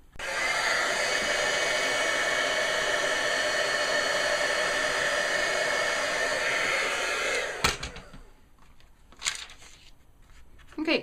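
A heat embossing tool melting embossing powder on a Christmas card blows a loud, steady hair-dryer-like whoosh for about seven seconds, then cuts off, followed by a few soft handling clicks and rustles.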